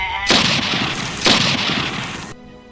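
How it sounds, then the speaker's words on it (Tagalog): Two loud booming gunshots ring out in a horror drama, a second apart, each with a long reverberant tail before the sound cuts off abruptly. "Sinunod pa ng putok ng baril."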